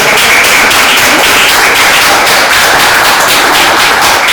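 Audience at an Indigenous Day celebration in India applauding loudly and steadily, a dense wash of clapping with no pause across the whole stretch.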